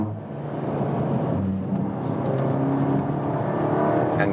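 A Cupra Ateca 300 hp SUV accelerating hard, its engine droning and rising steadily from inside the cabin, fairly loud and continuous with no talking.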